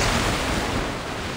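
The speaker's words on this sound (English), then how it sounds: "Watch out! The big waves!" Heavy storm waves crash and roar in a video game sea, with wind noise over a dense, continuous wash of surf that stays loud and close throughout.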